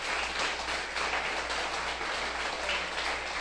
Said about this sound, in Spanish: Y demos un aplauso al Señor por esa